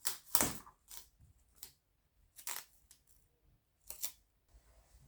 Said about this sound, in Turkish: Şimdi şu kalan yeri de bantlayalım